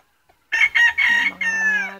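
A rooster crows loudly and close by in one long, drawn-out call, preceded by a brief moment of quiet.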